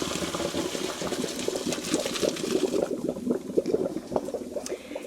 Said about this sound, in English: We're just gonna get that dumped right into a colander in the sink.